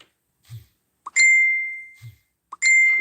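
A phone notification chime sounds twice, each a short lower tap followed by a bright sustained ding that rings and fades, repeating about a second and a half apart in an otherwise quiet room.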